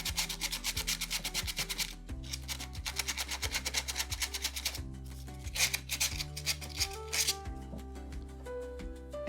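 Sandpaper rubs by hand over a mermaid decor figure, producing close, continuous rhythmic scratchy strokes with brief pauses between bursts.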